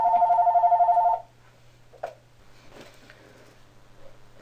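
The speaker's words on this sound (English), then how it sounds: "Okay, sorry about the phone." A telephone rings loudly in a steady repeating burst for about a second, then stops, leaving faint room noise and a few small knocks.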